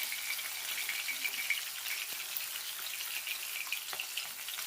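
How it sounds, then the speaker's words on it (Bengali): Fish pieces fry in hot oil in a pan, a steady bright sizzle and crackle close by, with a couple of faint clinks from a utensil and no speech. "একইভাবে আমি আর সব মাছগুলো ভেজে নেব"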